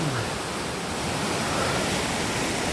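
Water from the Girlevik waterfall pours down in a loud, dense, continuous roar, heard close up and alone with no voices.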